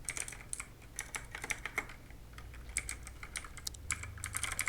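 Quick, uneven keystrokes clatter on a computer keyboard, light close clicks in short bursts with brief pauses, faint and without any talk.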